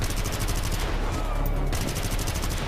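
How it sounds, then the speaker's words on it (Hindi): Rapid turret gunfire in the GTA Vice City video game, a dense, continuous burst of loud shots that rattles on without pause for the whole moment. "ये इन्हें गोलियां मारते रहेगा"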